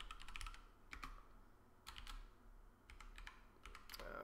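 Close-miked typing on a computer keyboard, quiet clusters of rapid key clicks separated by short pauses, with no voices.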